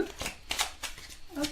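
Tarot cards shuffled by hand in a few quick riffling bursts, close and crisp, with someone speaking softly between them.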